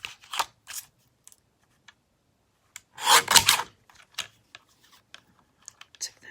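A small paper cutter trims cardstock in a few short, dry slicing and rubbing strokes, with one louder swipe in the middle and light taps and handling noises around it, close up and otherwise quiet.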